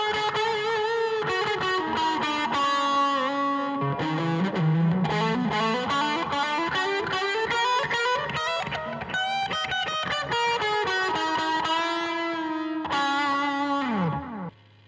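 Electric guitar played through Arundel reverb and delay pedals with a heavy blues tone and split coil, ringing chords and bending notes trailing off in echoing repeats, loud and continuous before cutting out at the end.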